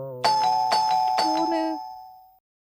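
A two-tone doorbell chime rings out loud and close in a Tamil TV comedy sketch, its bright ding-dong tones sounding in quick succession and decaying after about two seconds, with a voice briefly underneath.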